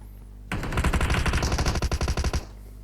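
AKM assault rifle fire in a video game: a sustained burst of rapid automatic shots, loud and close, ending in a few separated pops before cutting to quiet.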